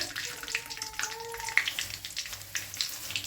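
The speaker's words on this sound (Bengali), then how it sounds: "একটু ভাজা ভাজা করবো" Onions, cashews and raisins sizzle and crackle in hot oil in a pan, close by, with irregular popping bursts and a faint hum underneath.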